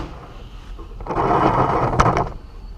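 A metal drawer on a Mac Tools tool box slides open with a single rolling, rattling scrape lasting about a second and a half, then stops with a sharp clack, heard close up.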